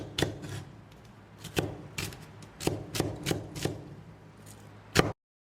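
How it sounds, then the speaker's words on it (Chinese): A knife cuts green onions into short sections on a cutting board, about a dozen crisp taps in an uneven rhythm, close and clear, ending abruptly in silence. "准备适量的青葱，切成小段"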